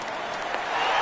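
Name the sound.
stadium crowd cheering in PS4 baseball video game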